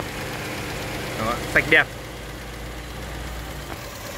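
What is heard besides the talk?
used car engine idling smoothly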